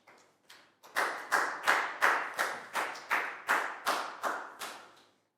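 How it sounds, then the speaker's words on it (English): Year 4 pupils in a maths classroom clap in unison, starting with a few soft claps and then settling into about a dozen loud, evenly spaced claps in a steady rhythm. "High five and a big round of applause for Proud, please, guys."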